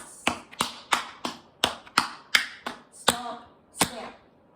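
Tap shoes strike a hard floor in quick roll-offs closed by a stomp and a clap, about a dozen crisp, close taps and claps in a short irregular rhythm with no talking.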